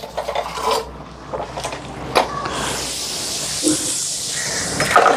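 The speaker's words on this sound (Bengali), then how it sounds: "আগে বাসন কয়টা ধুয়ে আনি" Dishes being washed by hand at home on a cold winter day, with steady rubbing, scraping and water hiss, plus a few sharp clinks of pots and utensils, close and fairly loud.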